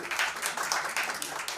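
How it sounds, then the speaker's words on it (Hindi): A crowd applauds a singer at a song release event, a dense, continuous wash of clapping throughout the short moment. "जोरदार तालियां इनके लिए"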